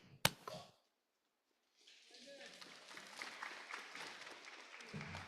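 Applause from a seated audience at a Rotary Club of Gainesville hybrid meeting rises after a short pause and continues steadily, a dense patter of many hands clapping together, moderately loud in the room.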